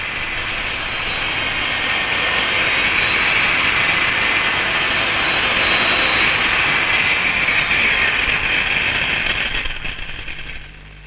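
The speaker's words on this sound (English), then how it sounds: "Here's a factory test with a drill of much greater power than anything the redistributor is likely to have." A powerful factory drill boring into a safe's thin outer steel covering, a loud continuous grinding roar that holds steady for about nine seconds before tapering off, close up and without talk.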